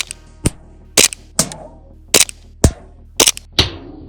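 Sand Viper gas gun fired in rapid succession at a can from about 60 feet: roughly seven sharp, loud cracks in quick, uneven bursts, with no talking.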